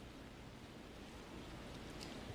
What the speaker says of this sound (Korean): 하루 종일 빗줄기가 세차게 쏟아지더니 아직까지도 굵은 빗방울이 떨어지고 있습니다